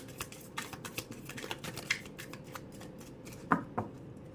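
Tarot cards riffled and shuffled by hand, quiet close crisp flutters and soft slaps in a quick uneven rhythm, with no talking.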